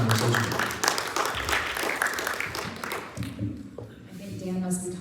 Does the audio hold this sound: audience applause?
yes